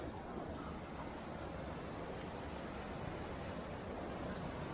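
A waterfall beside a building in a colorful wooded spot in Bosnia, giving off a faint, steady, broadband rush of flowing water that continues evenly and alone from a distance.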